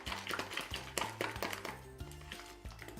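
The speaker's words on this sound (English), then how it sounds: "I'm going to stir that in" A spoon stirs flavouring drops into caramel icing in a bowl, giving a quick series of close, light clinks and taps against the bowl at an uneven rhythm, fairly quiet and with no talking.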